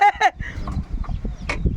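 A live chicken clucks in short bursts at the start, and a few faint clucks follow at a distance over low rumbling background noise and scattered voices.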